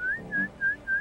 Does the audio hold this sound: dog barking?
no